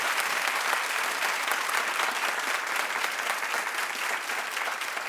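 Steady applause from a studio audience at a daytime talk show's 1,000th episode celebration, dense clapping filling the whole stretch at an even, loud level with a faint crowd murmur and no talk.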